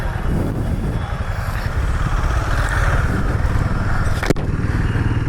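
A motorcycle moves through a crowded street, its engine a steady, loud, close rumble over busy street noise, with a sharp click near the end and no clear speech.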